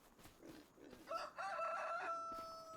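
A rooster in a farming video game crows a clear, drawn-out call after a few soft clucks, moderately faint over a quiet background.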